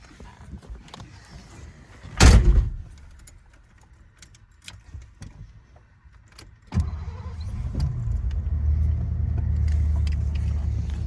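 A 1984 Lincoln limousine starting up, a few quiet interior clicks before a loud burst, then another sharp crank after which the engine catches and settles into a steady low rumbling idle.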